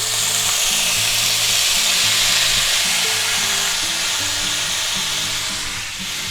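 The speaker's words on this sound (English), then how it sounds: "To that, we're going to add all our vegetables." Vegetables for a pepper steak stir fry sizzling loudly in a hot pan, a dense, continuous hiss with some scraping of stirring beneath, close and without speech.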